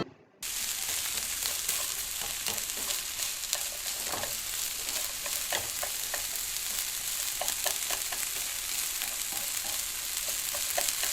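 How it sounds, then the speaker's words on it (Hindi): Onions browning over low heat in a deep pot (degchi) for chicken yakhni pulao, a steady close sizzle with scattered sharp crackles and pops, no talking. "दूसरी तरफ मैंने प्याज को देगची में डाल लिया, जब तक कि प्रेशर चलेगा उतनी देर में मैं प्याज को ब्राउन कर लूंगी।"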